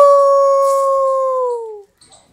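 A single dog howls in one long, steady, sustained note that slowly falls in pitch, close and loud, ending abruptly with a faint trailing sound afterward.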